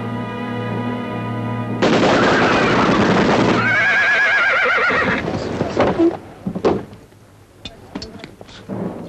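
Horse whinnying loudly and repeatedly over several seconds amid battle noise, with sharp gunshot-like cracks and hoof sounds following as the neighing fades.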